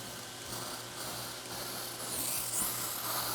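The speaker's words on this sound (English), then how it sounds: "Vacuum on, extraction as well," Upholstery steam cleaner running with vacuum and extraction on, a steady broadband whooshing suction that fills the whole clip at moderate level, with no voices.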